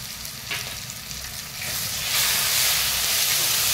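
Masala with red chili powder fries in a pan for a red chicken curry, a close hissing sizzle that swells into a louder, steamier roar halfway through, with no voices.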